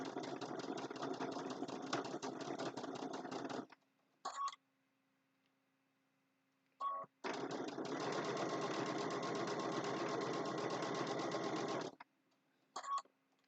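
Sewing machine stitching a French seam on a zipper bag, running in two long steady bursts of rapid stitching with short whirring taps and a faint hum in the pauses between.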